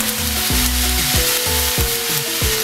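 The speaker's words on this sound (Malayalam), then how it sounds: "ഇങ്ങനെ കുക്ക് ആവുന്ന സമയത്ത് ലെമൺ ജ്യൂസ് ഒഴിച്ചു കൊടുക്കുക." Lemon rice cooking in a hot pan as lemon juice is poured in, a loud continuous sizzle and frying crackle close up, with repeated scraping stir strokes about every half second.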